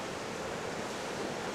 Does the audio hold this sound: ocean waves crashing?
yes